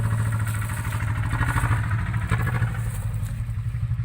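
A small farm tractor engine runs close by, pulling a vehicle stuck in mud, with a steady, loud chugging rumble and a rhythmic clatter that never lets up.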